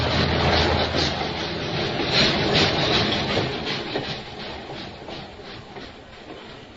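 A train running on rails in a radio drama sound effect, a steady rumbling roll with rhythmic clickety-clack, loud at first and then slowly easing off, with no speech over it.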